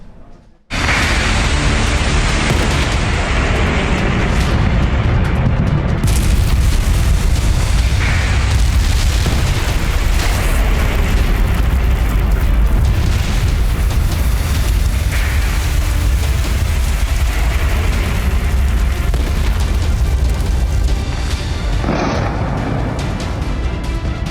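Missile strikes in the Iran-Israel conflict erupt as a loud, continuous roar of explosions and deep booms, sustained and dense for over twenty seconds without a break.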